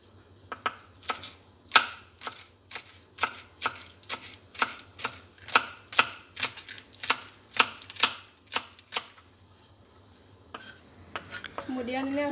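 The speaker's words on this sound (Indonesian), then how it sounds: "dorinya mau aku potong-potong" Dory fish chopped into small pieces with a knife on a board, a run of about twenty sharp, evenly spaced chops close by, then a pause and some faint handling noise.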